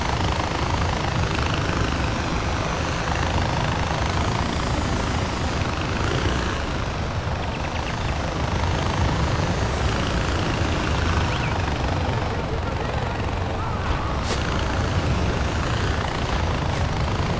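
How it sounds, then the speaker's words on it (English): Helicopter in Far Cry 4, a steady broadband rotor and engine roar that holds loud and continuous throughout with no talk, only brief higher whines near the end. "Alright, let's get in our chopper."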